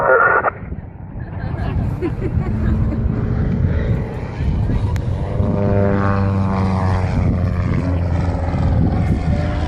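A propeller airplane flies at the Naval Air Station Oceana airshow, its loud, buzzing engine drone continuous and shifting in pitch as it passes, with people talking over it.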